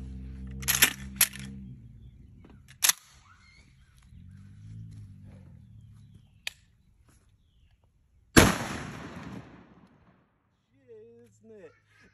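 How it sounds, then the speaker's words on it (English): A shotgun fires a 1 ounce slug outdoors, a single sharp loud blast with a trailing echo, set among scattered clicks and handling noises and brief talk near the end. "I am shooting a slug, and I haven't shot one in a while."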